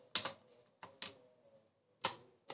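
Several sharp plastic key clicks from a computer keyboard, the Enter key tapped in an uneven rhythm of four or five close, crisp strokes with quiet gaps between, while typing in Microsoft Word.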